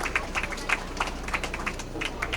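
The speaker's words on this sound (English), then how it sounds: "So give yourselves a round of applause." An audience gives a round of applause at the 2018 PWBA Sonoma County Open stepladder finals, a professional women's bowling event, with a steady patter of many hands clapping at moderate distance.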